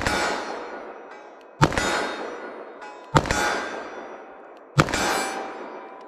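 Three sharp, loud metallic clangs ring out at even intervals as 180-grain .44 Magnum bullets strike a full-size steel silhouette target at 25 yards, each hit leaving a decaying ring.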